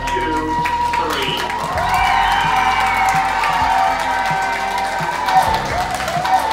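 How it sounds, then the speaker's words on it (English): A crowd at a Secret Santa giveaway event cheering and whooping loudly on cue, mixed with clapping and a voice over a speaker, sustained for several seconds. "give me the loudest cheer you can"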